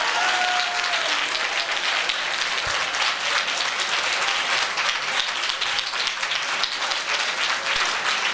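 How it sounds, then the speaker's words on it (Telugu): Church congregation clapping steadily and continuously throughout, a dense, full-room applause with no break, fairly loud and close. "నోరు మూసుకొని చప్పట్లు కొడతాం కదా."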